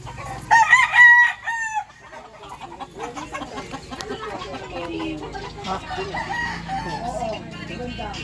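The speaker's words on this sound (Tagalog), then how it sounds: "Yung mga manok nyo dyan, oh." A rooster crows loudly near the start, then chickens cluck and chatter steadily in the background for the rest of the clip, on a rural property in Occidental Mindoro, Philippines.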